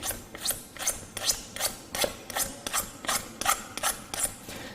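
A manual scraper shaves a thin film off a pipe in about eleven steady, evenly spaced rasping strokes, each a short scratchy pull heard close up with no talking.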